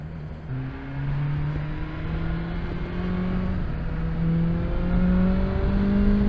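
A 2021 BMW S1000XR four-cylinder motorcycle engine revs steadily, its whine climbing gradually in pitch as it accelerates, close and continuous with no talking.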